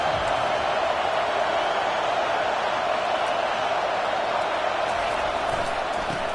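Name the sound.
home football crowd cheering at NCAA playoff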